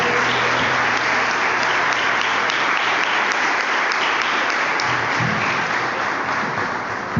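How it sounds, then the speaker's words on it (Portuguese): A church congregation applauds in sustained, loud, dense clapping that fills the whole stretch with steady, even intensity and no talk over it. "aplaudimos mais uma vez a Deus"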